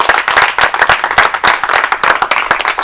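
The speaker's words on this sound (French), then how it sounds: "Vous pouvez applaudir pour vous-même." An audience applauds itself with dense, energetic clapping, many close hands striking in quick irregular rhythm for a few seconds, no voices over it.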